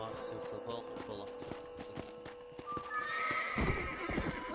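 Horse neighing and hooves clip-clopping in Red Dead Redemption, a whinny and steady hoof beats under game music and dialogue, growing louder and busier toward the end.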